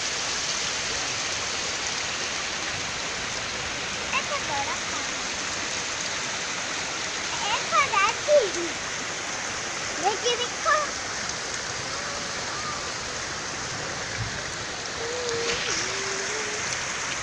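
Heavy rain pours in a village setting, a dense, steady hiss that fills the whole stretch, with a few faint voices and brief knocks rising now and then above it.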